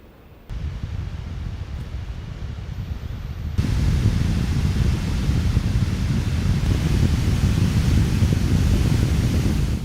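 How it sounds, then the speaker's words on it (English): An Acer Predator Helios Neo 16 gaming laptop fan whooshes alone as broadband airflow, stepping up sharply in loudness after a few seconds and holding a steady, louder roar through its higher performance modes. "I want you to listen to the audio of the fan as it increases, as you go from quiet, balanced, performance, and turbo"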